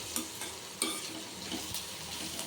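Onions and curry leaves are stirred in a hot pan for prawn curry, giving a steady close sizzle with a few sharper scrapes and clinks of the spoon against the pan.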